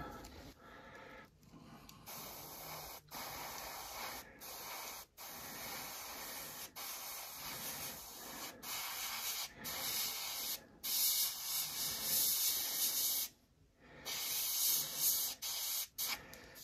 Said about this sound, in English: I just adjusted the airbrush a little and the compressor.